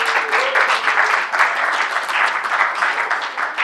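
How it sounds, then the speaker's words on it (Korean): Steady, full applause fills a room at a year-end church ministry retreat gathering, continuous and even throughout without pauses. "와, 박수!"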